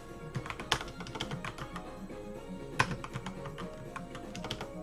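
Steady typing on a computer keyboard while setting up a Kali Linux virtual machine: quick, close, irregular clicks with a few sharper keystrokes, no talking.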